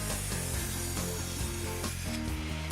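Power saw cutting 4x4 wooden posts down to table legs, a loud continuous buzzing whine with a steady pitch and no speech.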